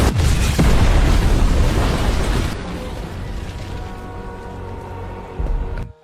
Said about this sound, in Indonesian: Dengan cepat sang ayah mengaktifkan alat peledak dan menyeret Eve keluar dari rumah.